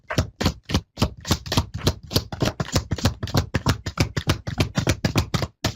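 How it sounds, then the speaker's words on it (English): Tarot cards being shuffled by hand at a live psychic reading, a rapid run of crisp riffling bursts repeating steadily and close, with no talk over it. "I'm just shuffling over here."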